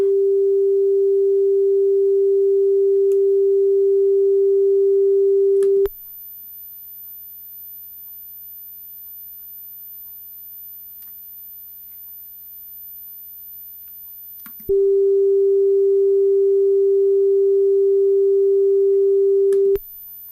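Steady test tone recorded onto a cassette for setting the recording level during a comparison of NAC FerroMaster C456, RTM Fox, TDK AR and Maxell UR tapes; a loud continuous pure hum runs alone, drops out for about nine seconds, then resumes unchanged.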